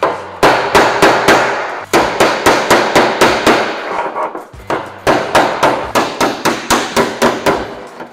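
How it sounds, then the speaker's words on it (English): A hammer taps a dent in sheet metal against a dolly, sharp ringing blows in quick rhythmic runs of several strikes with brief pauses between groups, loud and close. "I'm gonna tap that high spot down so that we get our crease back"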